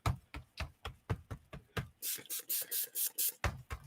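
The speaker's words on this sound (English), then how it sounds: "So spray it everywhere, make it wet." Water spritzed from a spray bottle onto a paper collage page, a run of short, close, hissing bursts in quick rhythm, preceded by soft rubbing and tapping sounds.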